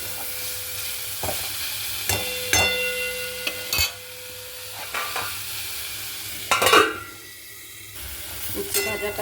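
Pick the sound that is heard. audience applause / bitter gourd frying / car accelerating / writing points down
bitter gourd frying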